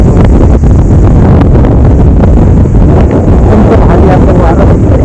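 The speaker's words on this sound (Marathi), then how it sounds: "भारी असं वारं" Strong gusting wind buffets the microphone on Rajgad mountain fort near the Pali Darwaja route, a loud, continuous roar with rough low rumble throughout.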